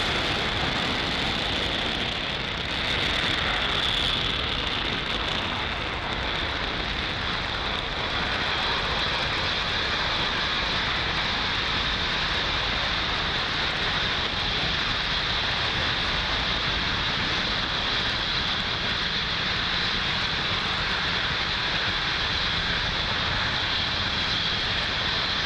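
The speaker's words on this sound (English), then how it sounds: "Falcon 9 has successfully lifted off from Pad 40 at Cape Canaveral" A SpaceX Falcon 9 rocket lifts off from Pad 40 at Cape Canaveral, its engines a loud, steady broadband roar that fills the air without letup, with a slightly stronger swell near the start.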